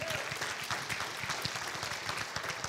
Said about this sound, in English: Let's give the Lord a big hand clap.